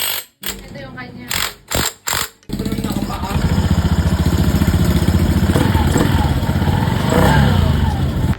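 A Honda Beat scooter's engine, just back together after a CVT repair, runs steadily and loudly nearby with a dense mechanical chatter, following a few short bursts and cuts at the start.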